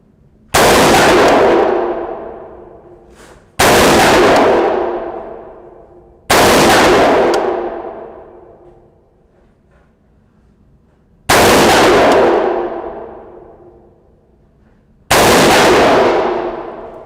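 Five loud single rifle shots from a Colt Commando AR-15 clone firing brass-cased Hornady .223 ammunition at an outdoor range, each sharp crack followed by a decaying echo, spaced a few seconds apart.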